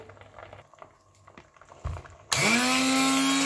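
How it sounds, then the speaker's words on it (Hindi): After a few quiet kitchen clinks, an electric mixer grinder blending pea and potato soup kicks on suddenly, its loud whirring motor quickly rising to a steady high-pitched drone. "तो हम अब मिक्सर के साथ इसे बारीक करेंगे।"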